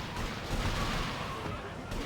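Gunfire in the video game GTA Vice City rattles as a dense, steady wash of shots and chaotic crackle throughout, fairly loud and continuous, with no clear single shots standing apart.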